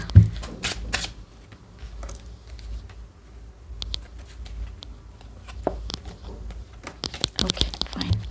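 Tarot cards being handled and laid out on a surface, with close, crisp shuffles, slaps and soft papery rustles in irregular bursts.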